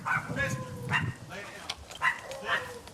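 A dog barks and yips in short bursts close by during a police call at a house where a homeowner fired at imagined intruders, while officers shout commands over it.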